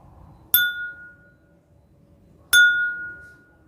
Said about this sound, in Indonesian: Coba kalian dengarkan baik-baik sekali lagi ketika gelas dan sendok ini